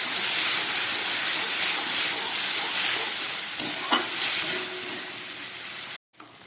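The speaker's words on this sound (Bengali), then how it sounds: "আমার মশলা কষানো হয়ে গেছে" Spice paste with a little garlic and a splash of water is sautéed in a pan for a lentil-fritter curry: a loud, close, hissing sizzle with stirring scrapes that eases off slightly, then cuts out near the end.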